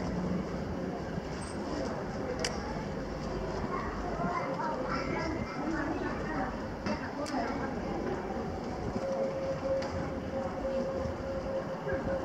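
Steady rumbling railway ambience at a platform in Tallinn, Estonia, with a train idling nearby, a faint tonal hum, and muffled voices in the background.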